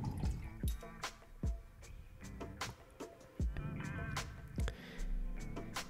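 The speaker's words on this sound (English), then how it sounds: "Rinse our brush." A paintbrush is rinsed in a water jar during watercolor painting, making irregular splashes, drips and clinks against the container, close and fairly quiet.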